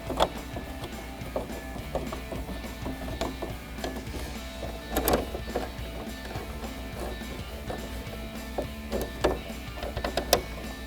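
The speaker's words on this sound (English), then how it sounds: "take my T15 Torx driver" A T15 Torx driver turning down the camera screws while fitting a Dark Horse style rear spoiler to a 2024-2025 Mustang: close, irregular metallic clicks, scrapes and ratcheting knocks, with one louder clatter midway.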